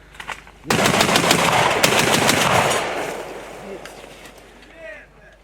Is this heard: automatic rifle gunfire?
yes